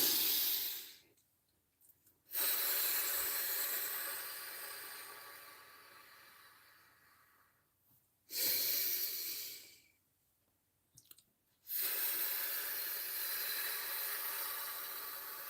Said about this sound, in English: let's take a nice deep breath